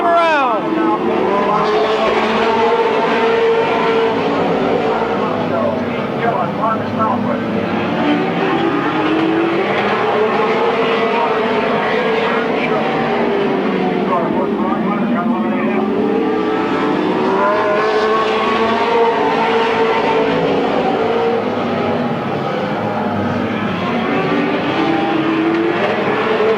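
Race cars circling Midvale Speedway in 1995, engines roaring loudly and continuously with rising and falling pitch as the pack sweeps through the turns and down the straight, close and dominant throughout.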